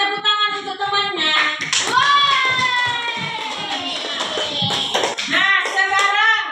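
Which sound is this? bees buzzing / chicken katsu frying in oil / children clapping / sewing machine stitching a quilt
children clapping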